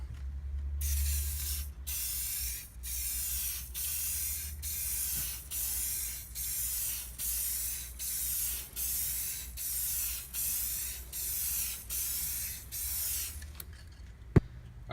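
Spray gun laying a color coat on a Polaris XCR 440 snowmobile sled sample panel, a rhythmic series of about a dozen short hissing passes, each sharp burst separated by brief pauses, close and fairly quiet, ending with a small click.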